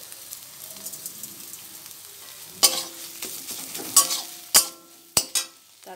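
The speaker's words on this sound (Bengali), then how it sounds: "এইভাবে আমি এবার নেড়ে চেড়ে পাঁচ মিনিট ধরে এটাকে ভাজব" Ridge gourd peel paste sizzles quietly in a pan while a spoon stirs and scrapes it, with several sharp clinks of utensil against metal in the second half.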